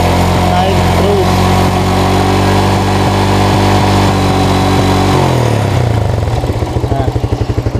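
A Yamaha Jupiter motorcycle engine that runs rough and stutters even after a new rectifier revs loudly and close, holding a high whine before dropping to a lumpy, pulsing idle, with people talking over it.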